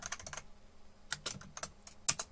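Computer keyboard keys pressed in short clusters of crisp, close clicks, including Shift, Tab and Enter, while a recipe book is built in OneNote, with quiet pauses between the bursts.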